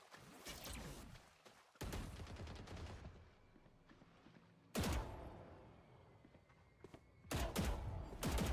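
Flashbang and gunfire in a Valorant grand finals match: bursts of rapid shots at the start, then several sharp loud volleys with quieter stretches between them.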